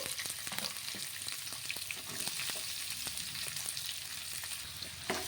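Chopped onions frying in hot oil with chana dal and mustard seeds, a steady close sizzle with occasional stirring scrapes and pops.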